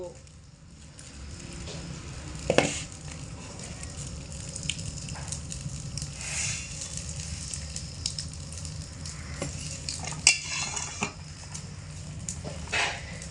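Fried vermicelli being stirred continuously in boiling milk over medium heat, with a low simmering bubble underneath and occasional sharp spoon knocks against the pot.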